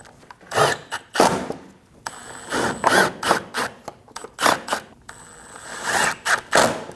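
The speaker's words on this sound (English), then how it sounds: "installing all of these screws" Screws being driven into the body panels of a 2012-2022 Volkswagen Passat 2.5L during AC belt work: a string of short, close ratcheting and rasping bursts repeat at an uneven pace, with no talk.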